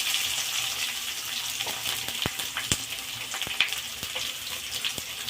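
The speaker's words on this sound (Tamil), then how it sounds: "கருவேப்பிலை நல்லா பொரிஞ்சு வந்ததுக்கப்புறமா பொடியாக நறுக்கி வச்சுருக்க வெங்காயத்தை சேர்த்துக்கலாம்." Chopped onions and curry leaves fry in hot oil for prawn thokku, giving a continuous close sizzle broken by sharp pops and crackles, with occasional scraping of a spoon in the pan.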